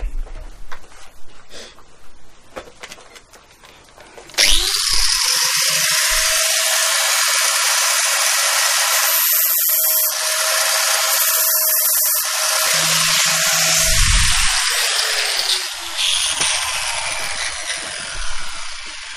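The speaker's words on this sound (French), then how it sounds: "il me manque plus qu'avec la disqueuse à limer un petit peu ici pour justement reprendre l'arrondi correctement" An angle grinder files the edge of a sheet metal panel, a loud, sustained high-pitched whine with a gritty grinding hiss that starts abruptly after a few seconds of quieter handling noise and then tapers off near the end.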